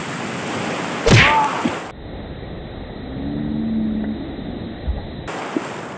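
A strong river current rushes past in a steady, loud, broadband roar close to the microphone, with a brief splash or knock near the start.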